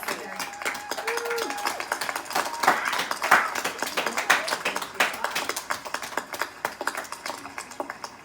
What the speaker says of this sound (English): join me in a round of applause for our new student pharmacists at St. Louis College of Pharmacy